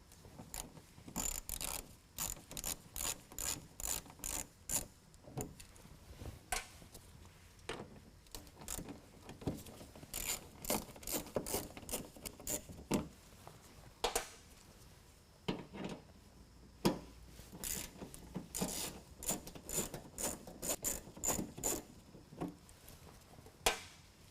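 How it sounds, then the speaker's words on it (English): A ratchet wrench with an 8mm socket backs bolts out of the fender liner of a 2019 Ram 1500 truck. Close, loud bursts of rapid clicking repeat again and again with brief pauses between them, and no one talks. "we're going to take off these 4 bolts using an 8mm first"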